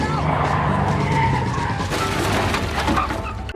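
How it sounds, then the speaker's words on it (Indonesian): A car skids and crashes into a house fence, a loud tire screech running throughout with a sharper burst of crashing impact noise partway through, under what sounds like movie soundtrack. "kotoran yang dipancing Chucky dilempar masuk ke mobil Tommy hingga menabrak pagar salah satu rumah di sana."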